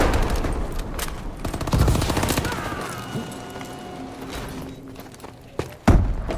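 Assault rifle (HBRA) fire in Call of Duty: Advanced Warfare multiplayer, with rapid bursts of close gunshots mixed with thuds and booms, loud and dense at first, thinning out, then a sharp heavy impact near the end.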